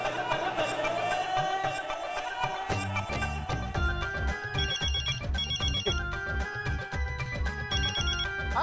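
A phone ringtone plays a repeating electronic melody, steady and fairly loud, with faint background noise.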